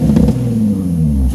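A Nissan 350GT/G35 exhaust revs close up from behind the car, a short loud blip with a deep rumbling tone that settles, then picks up again at the end.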